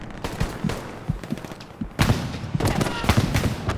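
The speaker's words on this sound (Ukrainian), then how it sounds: "там кулемет просто циркулярка" Rapid machine gun fire in the WW2 shooter Hell Let Loose, sharp bursts of shots crackling in quick succession amid other distant gunfire, loud and continuous through the moment.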